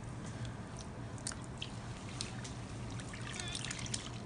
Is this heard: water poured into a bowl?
yes